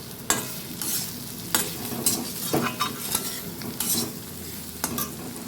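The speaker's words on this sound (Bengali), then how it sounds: "আর ভালো করে মশলাটা আমি ভেজে নেব।" Spices sizzling in a pan while being stirred for a cabbage and potato dish, with a steady close frying hiss and repeated sharp scrapes and clinks of the spoon against the pan, and no voices.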